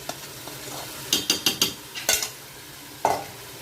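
Spinach and meat for palak gosht stirred in a pan: about half a dozen quick scraping strokes in a burst, then a final scrape, over a low background sizzle, close and with no talking.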